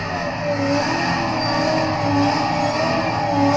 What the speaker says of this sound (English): That supercharger whines.